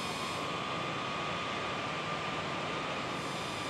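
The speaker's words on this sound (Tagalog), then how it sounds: "So, lumilipad na yung drone natin pataas." A DJI Neo mini drone climbs upward, its whirring propellers giving a steady, even broadband hiss with a faint tonal whine, constant in level throughout and with no voices.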